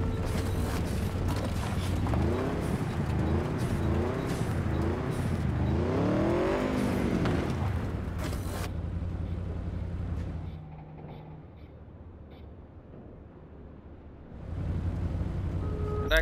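Cyberpunk 2077 motorcycle engine revs repeatedly in rising, wavering sweeps for several seconds, then cuts to a quiet idle-like hum before a loud burst returns at the end.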